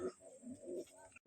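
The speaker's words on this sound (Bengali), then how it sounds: "এই দেখুন সব পায়রাগুলো চলে এসছে" Racing pigeons gathered on a rooftop give a short, faint run of low throaty coos, heard close and alone.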